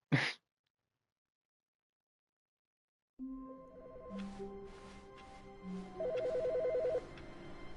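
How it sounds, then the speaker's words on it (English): A telephone rings in the video game The Stanley Parable, with a quick burst of repeated electronic ring tones near the end, set against quiet game music after a brief noise and a stretch of silence. "The phone is ringing."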